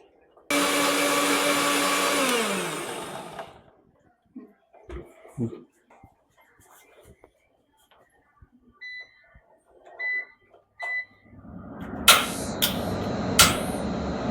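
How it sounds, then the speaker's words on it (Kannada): A kitchen mixer grinder whirs loudly for about three seconds grinding homemade weight gain powder, then winds down, followed by scattered knocks and handling noises and a brief second burst of motor noise near the end. "ಈಗ ಇದನ್ನು ಗ್ರೈಂಡ್ ಮಾಡ್ತಾ ಇದ್ದೀನಿ"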